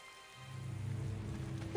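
Rain in the video game Tales of Xillia falls as a steady, dense hiss that grows slightly fuller over a couple of seconds, with no voices.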